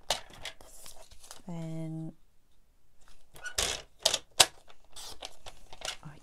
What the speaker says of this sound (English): So if I cut it as a strip this side